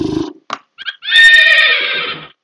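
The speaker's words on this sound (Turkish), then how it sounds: "At sesi." A horse neigh sound effect from the Scratch sound library: a few short snorting blips followed by a loud, drawn-out whinny lasting over a second, heard alone and close.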